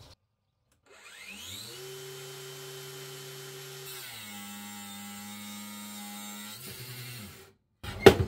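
A Narex ABU 125-600 60V 1000W cordless angle grinder cutting steadily under a weighted load, a sustained whine that shifts pitch midway as the cut progresses, then winds down and stops with a clatter at the end.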